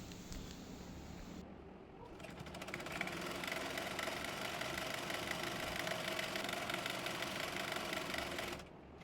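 A sewing machine hemming a palazzo trouser leg runs in a fast, even mechanical whir for several seconds near the mic, starting after a quiet moment and stopping just before the end.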